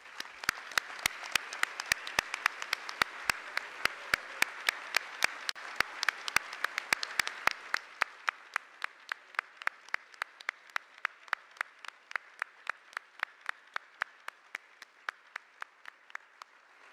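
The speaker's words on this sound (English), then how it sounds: "Please join us in congratulating all of the nominees with a hearty round of applause" Audience at a space awards gala applauds the nominees, a dense broadband patter of many hands with sharp individual claps, fading after about eight seconds to a thinner, sparser clapping that continues to the end.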